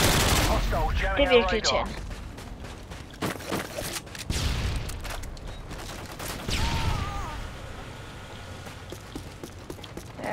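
Gunfire from the video game Call of Duty Modern Warfare 2 comes in sharp bursts and rapid volleys, some spaced and some clustered, while a player talks over the action.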